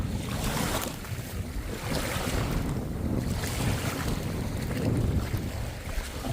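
Lake water washes and laps steadily against a shore under strong wind buffeting the microphone before a storm, a continuous rushing with no voices.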